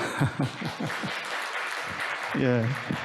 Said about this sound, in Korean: 박수 쳐주셔서 좋습니다